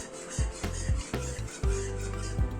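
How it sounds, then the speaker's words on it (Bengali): Egg halwa mixture is stirred in a pan over a low gas flame, a spoon scraping and rubbing against the pan in short, repeated strokes with occasional sharper knocks, close and alone. "এখন সমানে খালি নাড়তে হবে, গ্যাসের ফ্লেমটাকে একদম লো করে দিয়ে।"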